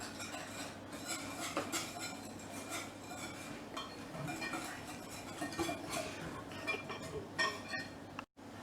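A spoon stirs cornstarch into apple-rhubarb tart filling in a bowl, soft continuous scraping and light clinks of utensil against the dish, quiet and close, with a faint voice underneath.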